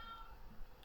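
A cat gives a faint, brief meow, quiet and distant, over low background noise.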